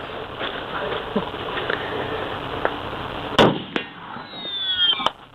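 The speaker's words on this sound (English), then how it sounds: "this gentleman is out here in the desert shooting his bolt-action 50 cal at steel" A bolt-action .50 caliber rifle fired at steel targets in the desert, with a sharp loud report followed by a ringing metallic ping, plus a second distant crack, over muffled low-quality background noise and a voice.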